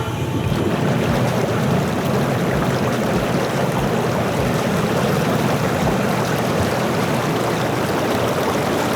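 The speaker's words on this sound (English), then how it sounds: "then you tap that, here's the bubbles" Bubble jets of an inflatable hot tub running, air forced through roughly 140 small holes around the tub floor, giving a steady, dense, close hiss of churning water and bubbling that holds evenly throughout with no talking.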